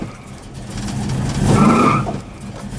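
A 1969 Dodge Super Bee A12 accelerates hard from a standstill, its tires spinning with a rising squeal over a loud engine roar that swells and then fades.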